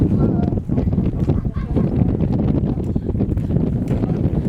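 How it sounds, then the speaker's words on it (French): Strong, steady wind buffets the microphone outdoors during a gourmet walking event, a constant low roar filling the whole stretch with brief gusting swells. "D'un seul coup, il y a du vent là"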